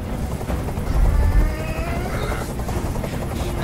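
Helicopter hovering overhead in the Detroit: Become Human video game, a loud, continuous rotor thudding and engine whine that fills the scene without pause, with no speech.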